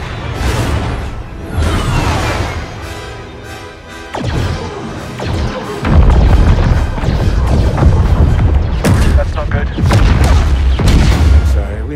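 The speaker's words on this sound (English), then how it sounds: "Now Y-Wings finish their bombing run." Y-Wing bombing run in Star Wars Battlefront 2, a chain of loud crashing explosions and booms against a burning star destroyer, with heavy impacts at about four and six seconds, thick rumble, and voices under the battle noise.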